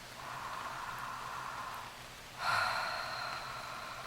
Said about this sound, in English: imagine that you're breathing in with the shape of ah